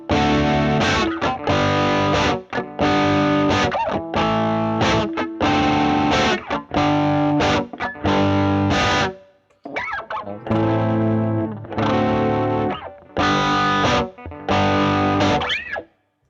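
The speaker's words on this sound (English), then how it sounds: "it sounds like a guitar you'd usually hear in like a rock song" A distorted electric guitar plays loud, gritty rock chords and riffs in bursts, with brief pauses between phrases.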